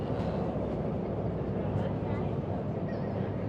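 Steady rumbling roar of a KTM commuter train in Malaysia in motion, heard from inside the carriage, continuous and fairly loud with faint voices.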